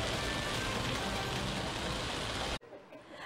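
Heavy rain pours in a dense, loud, hissing wash during a downpour in Tacurong City that brought zero visibility and flooding, then cuts off abruptly near the end, leaving quiet background.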